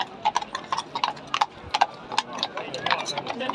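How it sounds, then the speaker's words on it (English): Horses' hooves clip-clop on the road at Horse Guards Parade, a quick uneven run of hoof strikes mixed with crowd voices and people talking nearby. "Can you make way for the horses, please?"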